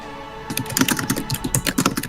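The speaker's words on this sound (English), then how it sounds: "And now I'm typing a bunch." Rapid typing on a computer keyboard, a dense close burst of clicky keystrokes in an uneven rhythm over a faint steady hum.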